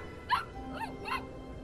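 A dog gives three short, close barks spaced about half a second apart over a quiet background, with no talking.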